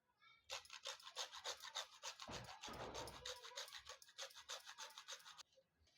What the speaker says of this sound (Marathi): आता जायफळ किसून घेऊ